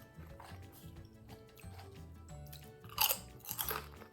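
Small crunchy chips from a Hunter's Gourmet truffle snack being bitten and chewed up close, with quiet repeated crunches that swell into two louder, sharper crackles near the end.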